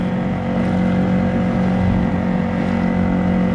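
Small outboard motor on a NuCanoe Pursuit canoe running steadily at close range, a loud, even droning hum with a strong low tone and no talking.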